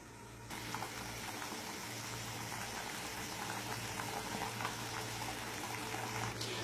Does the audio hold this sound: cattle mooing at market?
no